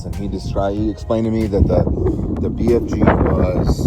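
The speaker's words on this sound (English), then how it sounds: "sorry about the wind." Outdoor wind buffeting a microphone, a steady low rumble running beneath someone speaking close up throughout.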